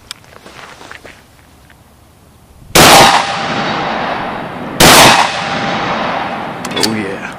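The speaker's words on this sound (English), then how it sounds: "let's move back a little bit more and shoot some slugs" Two loud, sharp blasts from a 12 gauge sawed-off coach shotgun firing rifled slugs outdoors at about 35 yards, each shot ringing out with a long decaying echo, about two seconds apart.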